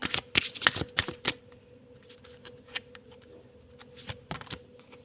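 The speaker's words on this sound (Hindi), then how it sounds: "3 कार्ड और लेती हूँ मैं आप लोगों के लिए यहाँ से" Tarot cards riffled and drawn from a deck, a rapid flurry of crisp snapping shuffles up front, then quieter scattered card slides and flicks, close by and fairly soft.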